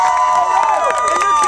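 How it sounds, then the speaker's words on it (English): Dense crowd cheering and shouting at a wrestling event in Philadelphia, Pennsylvania, a steady loud roar with whoops and scattered clapping filling the whole moment. "Everybody, give yourselves a huge round of applause."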